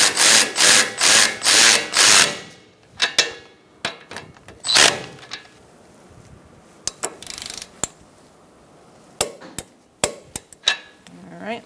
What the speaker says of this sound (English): 16mm socket, we're going to snug this up and torque it to 33 foot-pounds.